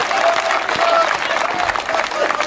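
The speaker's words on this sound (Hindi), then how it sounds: "बहुत अच्छे, तालियां।" An audience claps together in sustained, dense applause, loud and close throughout with a steady crowd texture and no pauses, during a Hindi comedy storytelling show.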